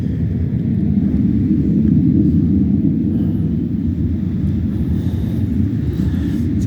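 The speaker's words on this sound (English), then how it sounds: "This one is loud, so it's gotta be a couple jets, a big jet." A loud, steady low roar of a jet passing overhead fills the air, a broad rumbling drone that barely changes over several seconds.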